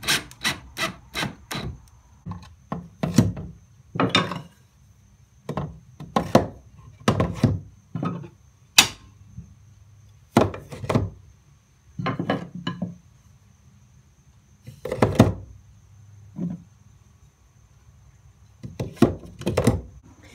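Installing a wooden lathe tool holder on a wall with pocket screws: a long series of close knocks and thuds with rubbing and scraping between them, uneven in rhythm, with short quiet gaps.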